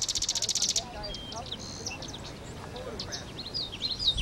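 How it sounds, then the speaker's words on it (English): A sedge wren sings outdoors, giving a rapid buzzy chattering trill at the start and then several thin, scattered chirps over faint background noise. "We're looking here at a sedge wren."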